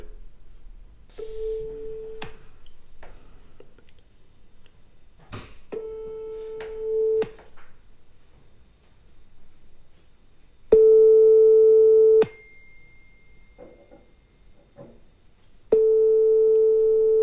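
Ringback tone of an unanswered outgoing call: repeated steady electronic tone bursts, one to two seconds each, separated by silent gaps, growing louder and longer toward the end, with no voices.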